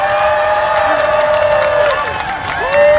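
An audience applauds and cheers for a committee chairman at a lakeside road festival, with sustained crowd noise, shouts and clapping, and a few bright whistles or squeals rising near the end.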